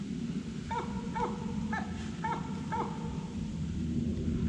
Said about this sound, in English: Excuse the dumb dog in the back too.